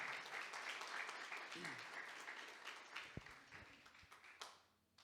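A church congregation applauds and claps loudly, the sound gradually fading out over a few seconds.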